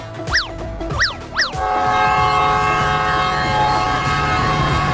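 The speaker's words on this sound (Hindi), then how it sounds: "अरे ट्रेन तो सीटी मार रही है। लगता है अब ट्रेन चलने ही वाली है।" A cartoon train sounds three rising whistle blasts before pulling out, then a steady loud rumble of the train takes over and continues to the end.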